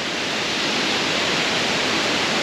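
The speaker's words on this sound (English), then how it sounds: "of course this is the tallest waterfall so far" Kynrem Falls, a tall waterfall in Meghalaya, gives a steady, loud, dense roar of falling water that holds even throughout, with no voices.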